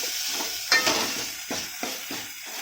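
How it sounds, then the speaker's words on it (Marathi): Dill and spinach greens fry in a pan with peanut powder and garlic, a soft continuous sizzle broken by several distinct stirring scrapes and utensil clinks at irregular intervals. "सतत आपल्याला फ्राय करून घ्यायचं आहे भाजीमध्ये"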